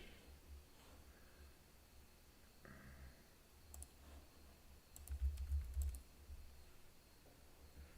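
Faint, sparse clicks of a computer keyboard being typed on, quiet and irregular against a low background rumble.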